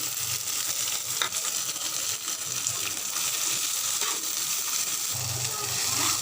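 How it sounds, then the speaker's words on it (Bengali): Boiled kharman (kharkol) leaves frying in hot oil in a pan, giving a continuous close sizzle with faint scraping stirs throughout. "এটা এখন তেলে ভেজে নিব"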